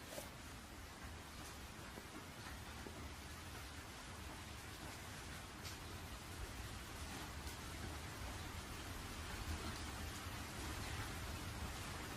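Steady rainfall in an anime film scene, a dense, even hiss of drops spreading across the whole range, quiet and continuous without voices, with a faint low rumble underneath.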